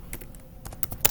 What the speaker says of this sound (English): I'll just type China